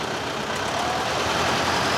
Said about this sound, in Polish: coraz więcej oflagowanych traktorów się pojawia